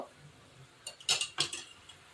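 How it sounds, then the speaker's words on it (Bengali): A spoon stirs poppy seed paste with raw mustard oil and turmeric in a small bowl, a few light metallic clinks and scrapes in a brief cluster, close but faint, no talking. "পোস্ত হলুদ আর কাঁচা তেল দিয়ে গুলে ঘেটে নিলাম"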